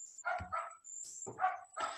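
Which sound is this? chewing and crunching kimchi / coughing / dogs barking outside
dogs barking outside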